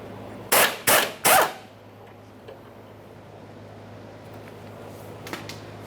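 An impact wrench rattles three short, loud bursts as it removes a 14mm mounting bolt from a fuel tank strap on a 1994-1997 Honda Accord, followed by quiet shop background with faint ticks.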